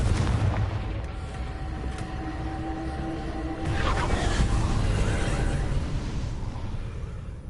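A Confringo fire-blast spell in the Hogwarts Legacy video game erupts as a steady, roaring fiery rumble with booming blasts, swelling louder midway and sustaining throughout with no talk.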